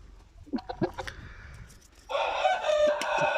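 A rooster crows loudly and close in the second half of the clip after a few short clucks and scratchy noises at the start.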